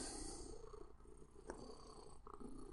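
A cat lying on a person's arm purrs softly and steadily, a faint continuous rumble close to the microphone with no talking over it.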